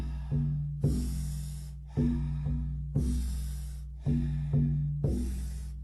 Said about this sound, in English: We're going to be practicing the Wim Hof breath